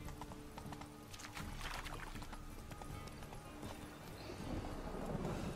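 Horse hooves clip-clop at a gallop in The Witcher 3, a steady rapid rhythm up close with a brief whinny, carrying on alone without talk over the game's ambient background.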